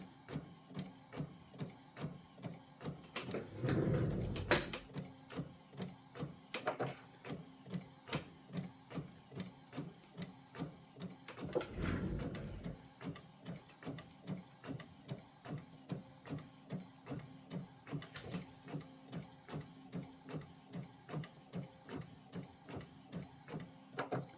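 A sublimation printer runs through a print job, with a steady rhythmic whirr and repeated mechanical strokes, plus two brief louder bursts of carriage movement along the way.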